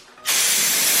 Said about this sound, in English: I'd say let's spray.